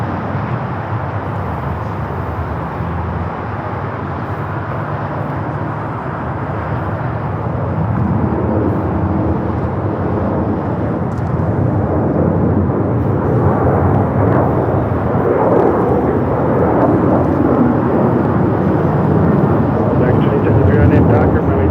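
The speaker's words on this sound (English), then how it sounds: "This is United Airlines 1621 taking off to Orlando, Florida on the 737-900ER." A United Airlines Boeing 737-900ER taking off from Los Angeles International Airport gives a deep engine roar that swells louder partway through and holds as a sustained rumble, with a voice talking over it.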